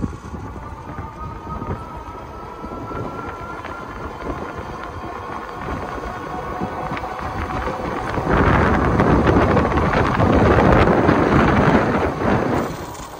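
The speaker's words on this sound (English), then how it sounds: "Turn the handle here on the handlebars. I can accelerate to 22 miles per hour." Steady wind rush buffets the microphone while riding a Himiway Cruiser electric bike at speed, a continuous broadband roar that grows louder and fuller in the second half, with no talking.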